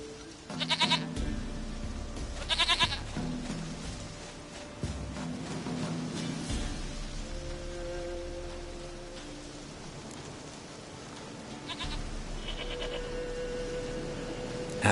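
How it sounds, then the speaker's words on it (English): A goat bleats in The Witcher 3: Wild Hunt, with a few sharp, wavering calls near the start over rain-like ambient noise, followed by quieter tonal game sounds and a later bleat around the middle. "Goat of mine, dearest, sweetest goat."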